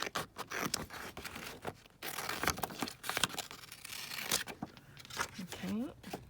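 Paper picture being cut out with scissors, heard as close, repeated snips and papery rustles in an uneven rhythm, with someone speaking quietly in between.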